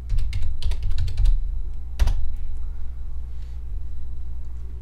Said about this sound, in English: Then you're just gonna type in import, then enter.